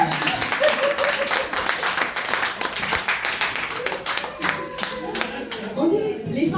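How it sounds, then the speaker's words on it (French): An audience at a women leaders' diplomatic conference in Paris applauds for the women in the room, dense sustained clapping filling a hall, with a voice speaking over parts of it. "Est-ce que vous pouvez applaudir pour les femmes qui sont dans cette salle?"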